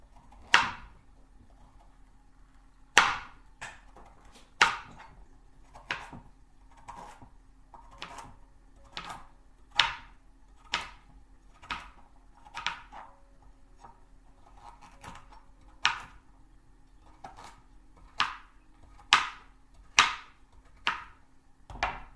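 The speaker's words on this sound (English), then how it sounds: "But for now, we're going to chop it down the line. I like to chop it like this for soups." A knife chops vegetables on a cutting board in steady, sharp strokes, about twenty distinct thunks spaced roughly a second apart, close and clear with no talking.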